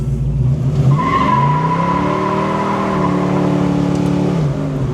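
A 1970 Chevelle spins its tires in a loud, sustained squeal, with the engine revving underneath as the pitch rises and steadies, close by and without speech.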